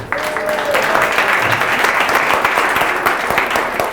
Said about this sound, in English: let's give one more round of applause for all our trip leaders